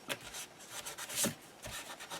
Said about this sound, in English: if you have the dry cloth to go in and get off any excess